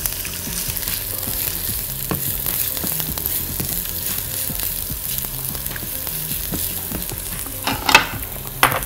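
Onion frying in hot oil, a continuous close sizzle and crackle with scattered stirring taps and a couple of louder scrapes near the end, no talking.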